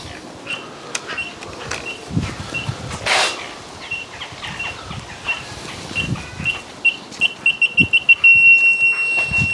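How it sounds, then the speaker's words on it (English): A parking sensor on a crash-damaged Category N salvage car beeps because a tripod is in the way, a faint, steady series of short electronic beeps that quickens toward the end and turns into a near-continuous tone over low garage noise. "It's only beeping because the tripod's in the way,"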